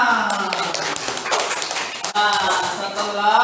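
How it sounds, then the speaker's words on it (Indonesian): Pupils in a classroom applaud during a teacher's lesson, a dense burst of clapping with some voices mixed in. "Ya, tepuk tangan."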